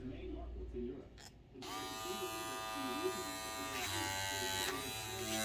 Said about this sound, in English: This clipper got a lot of torque.